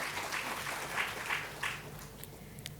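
An audience claps at a business conclave in Maharashtra, a steady wash of applause with a few louder swells before it thins out toward the end.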